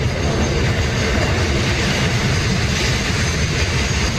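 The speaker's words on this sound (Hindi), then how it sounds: "खाली मालगाड़ी जा रही है गाइस।" Empty freight train passing on the disused Delhi ring railway, a loud continuous rolling roar of wagons with steady clattering wheels, close by and without voices.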